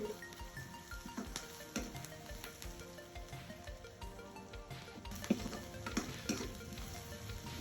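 Chopped small shallots and dal fry in oil in a pan, a steady close sizzle broken by scraping stir strokes and occasional clinks of a spoon against the pan.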